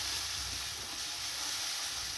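Boiled potatoes fry with turmeric and chilli powder in a pan, giving a faint, steady sizzling hiss throughout.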